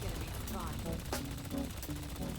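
Rapid gunfire from a full magazine emptied in the Apex Legends-style shooter, dense continuous bursts with a steady loud level, game sounds layered throughout.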